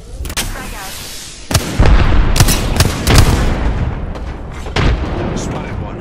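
Gunfire in the Apex Legends video game while playing Caustic: sharp heavy shots and booming impacts crack in irregular bursts, loud and close, with brief in-game voice lines between them.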